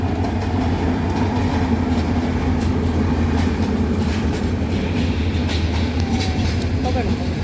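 The Kalni Express, a Sylhet–Dhaka passenger train, rolls past close by with a steady, loud rumble and clickety-clack of wheels on rail joints, filling the whole stretch without pause.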